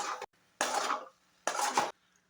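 A spoon mixing an egg and bread mixture in a bowl, three short bursts of scraping and clinking against the bowl with quiet gaps between them.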